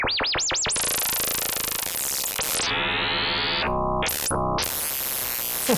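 Pocket Operator PO16 synthesizer producing a cosmic sound: swooping pitch sweeps, buzzy sustained tones and abrupt bright bursts of noise, loud and alone.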